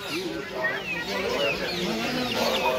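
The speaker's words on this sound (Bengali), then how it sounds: "আর ভিতরে এই মুরগিগুলো হচ্ছে দেশি প্রজাতির" Native chickens cluck steadily at a village market in Kashipur, a busy crowd of hen calls close by under a constant hum of market chatter and background voices.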